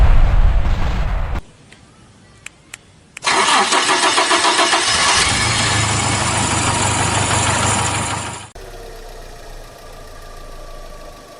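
A manual car's engine cranks briefly, catches with a loud start, then runs at a raised, steady idle as it warms up, dropping to a quieter, smoother idle near the end; no talk.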